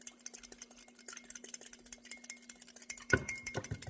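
A spoon stirs a sauce of sugar, crushed red pepper flakes, mirin and sesame oil in a bowl, giving soft repeated scrapes and clinks at close range, ending with a firmer knock.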